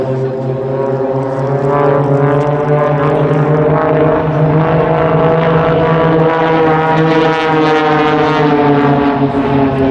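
Global Stars aerobatic display aircraft at the Duxford Air Festival: a loud, steady propeller engine drone with strong harmonic tones, its pitch slowly rising and falling as the plane manoeuvres, holding at full volume throughout.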